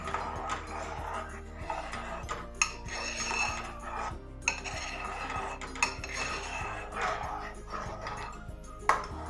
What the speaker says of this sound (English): slowly add this mixture of the wheat flour and milk and stir it slowly